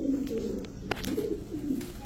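Pakistani pigeons coo close by, their low throaty calls repeating in soft rolling bursts over a busy background.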